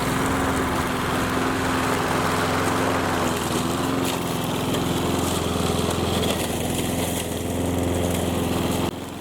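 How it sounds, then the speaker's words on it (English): A lawn mower runs steadily while mowing an overgrown patch on a homestead, giving a close, continuous buzzing engine drone with a high whine, fading out abruptly at the end. "In addition to mowing this area"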